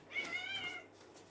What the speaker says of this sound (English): the kittens and my cat have just decided to have a zooming fit right now